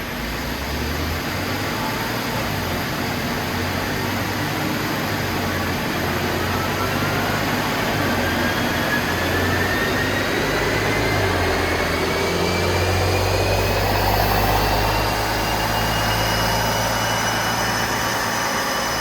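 A Mercedes-AMG GLE 43 runs on a dyno, its engine a steady droning hum that builds gradually in pitch and loudness over the pass, with constant broadband roar and no talking.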